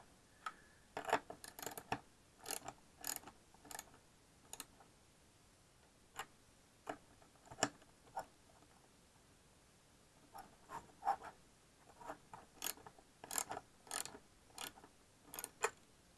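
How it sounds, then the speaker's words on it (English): Small wrench tightening bolts on a 250-size quadcopter frame during assembly: sparse, quiet metallic ticks and clicks in irregular clusters, near and alone with no talk. "So just use this wrench which I have here. We're gonna just tighten it."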